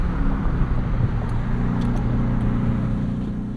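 The 720 hp V8 of a 2024 Ford F-150 Raptor R drones loud and steady from inside the truck on a morning commute, a deep constant rumble with no talk.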